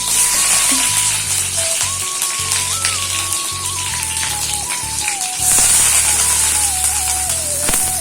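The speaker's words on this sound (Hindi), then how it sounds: "में फोरन डाल रहे हैं मिर्ची और प्याज" Chili and onion tempering in smoking-hot oil for a methi bhaji dish with potatoes, a steady crackling sizzle close by that swells louder partway through, with no talking.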